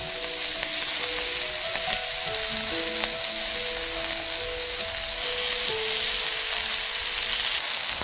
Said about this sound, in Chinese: 锅里的猪油不要浪费，把青椒和鸡蛋煎出虎皮